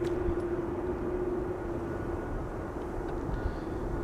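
An Air Serbia airliner bound for Belgrade taxis at Amsterdam Schiphol, its steady jet engine hum droning continuously at moderate distance with a constant low rumble and no voices.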